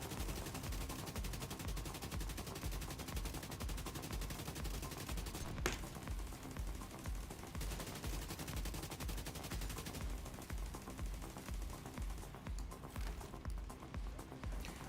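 Continuous rapid automatic fire from an AK-M rifle in the shooter game The Division 2, loud and sustained across the whole stretch in dense bursts, with no talking over it.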